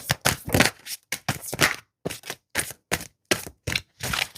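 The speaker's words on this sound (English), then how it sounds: "And one more shuffle for some clarifying cards that we'll use at the end." Tarot cards being shuffled by hand in a quiet room: close, crisp bursts of riffling and slapping in a fairly regular rhythm, separated by short silences.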